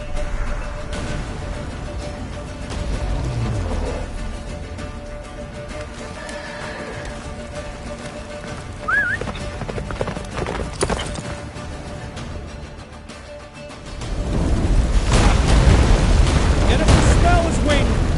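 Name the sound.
horse Roach galloping in video game Witcher 3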